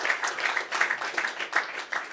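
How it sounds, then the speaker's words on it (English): Brief applause from an audience at a Bitcoin hackathon presentation, a crowd of hands clapping in uneven bursts at moderate loudness with no talk. "Another round of applause."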